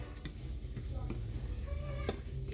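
Chocolate cake batter being mixed in a bowl: a soft, continuous scraping and stirring with light clinks of utensil against the bowl, fairly quiet and close.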